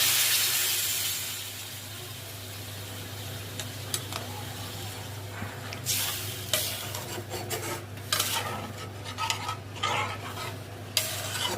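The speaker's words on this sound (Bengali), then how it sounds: "এখন পরিমাণ মতো ঝোল দিয়ে দেব।" Small fish curry being stirred in a pan as liquid goes in, a broad hiss of steam and sizzle fading into irregular scraping strokes that grow busier toward the end, close and moderate in level, no voices.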